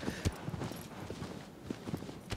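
Horse hooves clop in a quick, uneven rhythm as the mount speeds up in the video game Shadow of the Colossus, with sharp close hits spread across the clip and a faint bed of game ambience.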